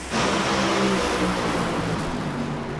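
Top Fuel dragsters roar off the line in the final round of NHRA finals at Pomona, a continuous, loud, broadband engine blast that starts abruptly and holds steady, heard alone.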